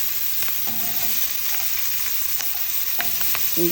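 Garlic and onion sauté together in a little butter, a loud, dense sizzle with brief stirring clinks and scrapes throughout, close up.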